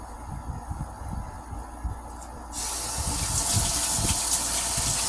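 Water pours in a home kitchen while strawberry jam is being made; a low running trickle gives way midway to a louder, steady gushing stream, close by.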